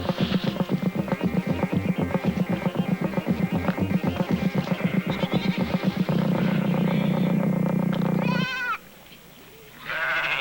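Rapid, overlapping bleating from many goats in a Dogon village fills the scene, loud and continuous, then drops away abruptly near the end to a quieter background.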